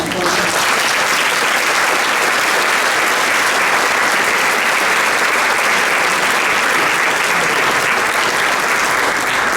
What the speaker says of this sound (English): Can we give you a little applause?